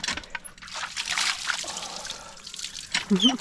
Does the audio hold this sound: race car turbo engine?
no